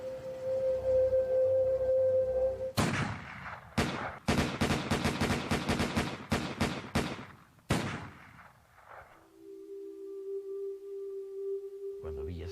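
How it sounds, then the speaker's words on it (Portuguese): Rapid rifle fire shot at a car carrying a man leaving a town, heard as a loud burst of many sharp shots in quick succession, briefly pausing and trailing off into quiet, with steady tones before and after. "desferiram 150 tiros no carro em que viajava"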